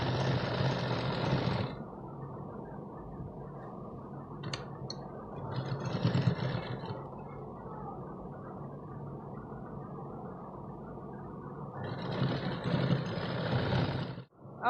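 A sewing machine stitching a large katori-style blouse runs in bursts, whirring loudly at the start, briefly in the middle and again near the end, with quieter steady background between runs.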